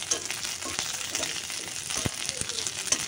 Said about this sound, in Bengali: আর একটু ভাজবো, তারপর নামাই নিব।